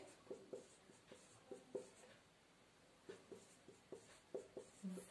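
Pen strokes on paper during a class lesson, a series of short scratchy marks in quick bursts with brief pauses, faint and close, no talking over them.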